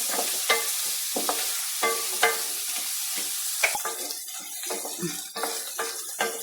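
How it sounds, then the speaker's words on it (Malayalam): Bitter gourd sautéing in a pan for a simple curry, repeated spatula scrapes and taps over a bright sizzle, rhythmic and close. "നന്നായിട്ടൊന്ന് വഴന്ന് വരട്ടെ"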